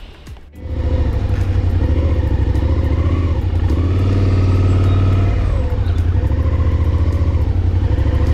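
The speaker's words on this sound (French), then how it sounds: "Je vais peut-être avancer la moto là-bas, auprès des petits bancs" A motorcycle engine starts up loudly and runs steadily, its pitch dipping and rising as the bike moves off at low speed.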